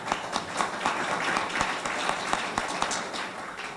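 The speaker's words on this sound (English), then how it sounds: "ladies and gentlemen, please a round of applause for Miss Amy Vickers." An audience applauds a speaker at a water sustainability workshop, with a steady, fairly loud wash of many hands clapping that is heard alone and does not fade.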